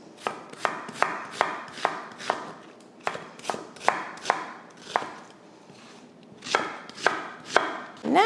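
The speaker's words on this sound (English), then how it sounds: "I have one onion that I am going to dice." A knife dicing an onion on a cutting board in quick, even strokes, a steady run of crisp knocks, a brief pause, then a few more cuts, up close.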